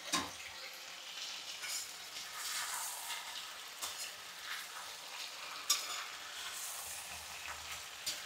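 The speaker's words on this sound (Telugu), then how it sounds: "ఒక్కసారి బాగా వేపుకోవాలన్నమాట మనం" Food fries in a pan with a continuous close sizzle, while a utensil stirs and scrapes through it in irregular strokes, including a sharper clatter partway through; no voices are heard.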